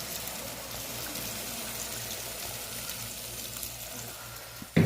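Water gushes and splashes steadily into a cooking pan of tomatoes and spices, with a low rumbling hiss throughout and a sharp clatter right at the end.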